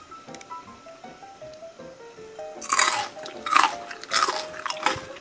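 Someone bites into pickled bitter melon, giving several crisp, wet crunches up close, each followed by chewing, over soft background music with no talking.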